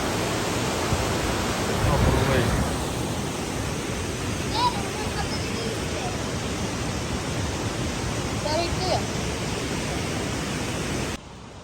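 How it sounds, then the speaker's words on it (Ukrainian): A small river spills over a low waterfall in the Calore gorge in Italy, giving a steady, fairly loud broadband rush that runs unbroken for the whole stretch, with no voices over it. "такая вот річечка тут тече, як ви бачите. Вона водоспадом таким."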